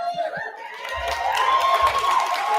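Crowd at a Truth Tour event cheering and applauding, a steady wash of claps, whoops and shouts building and holding, with voices and a held tone riding over the noise.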